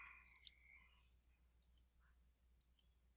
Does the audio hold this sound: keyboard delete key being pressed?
yes